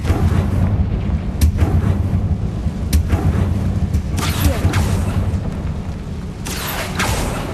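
Confringo explosion spell in Hogwarts Legacy fires repeatedly, with several sharp booming blasts and crackling bursts over a dense, rumbling low-end bed of battle noise, loud and close.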